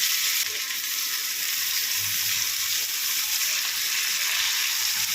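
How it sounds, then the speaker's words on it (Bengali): Chopped onions sizzling in hot oil in a pan, a loud continuous hiss that begins abruptly and holds steady, with faint stirring beneath and no speech. "এবার এটার মধ্যে কুচানো পেঁয়াজ দিয়ে দিচ্ছি।"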